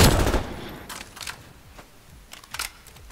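Short bursts of automatic fire from an MP40 submachine gun in a World War–style shooter game, one heavy volley up front and then a few quicker, lighter bursts spaced across the moment.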